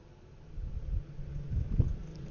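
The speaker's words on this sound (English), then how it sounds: "The only other alternative is this fan" An electric fan runs beside an open window, giving a steady low rumbling whoosh that swells and eases slightly, like wind buffeting a microphone.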